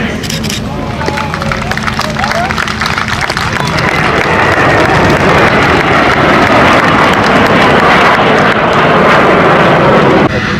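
Aerobatic patrol aircraft roar past at an air show in Cambrai-Niergnies, a loud sustained jet rush with wind buffeting, while an announcer speaks over the public address.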